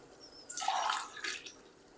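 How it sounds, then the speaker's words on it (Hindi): Yakhni broth poured from a glass into a pot of beef pulao, a short liquid splash and gurgle lasting about a second, close and fairly soft, with a brief second pour after it. "तो अब हम इसमें शामिल करेंगे यखनी"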